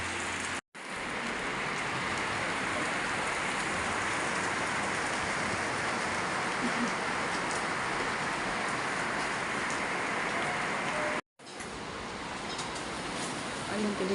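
Heavy, dense rain pours steadily close by, a constant hissing roar with two brief dropouts.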